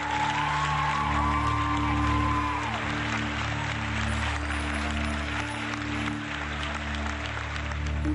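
A television studio audience applauds a folk singer, a sustained dense round of clapping with a faint cheer over steady background hum, lasting the whole stretch.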